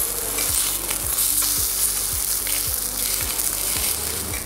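Scallops sear in a sauté pan with a loud, close, steady sizzle, broken by soft regular ticks and light scrapes about every half second.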